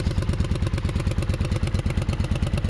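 A Kawasaki Vulcan 750 motorcycle idles just after a first-turn start, its engine a fast, steady, close-up throbbing chug with an even pulse and no voices.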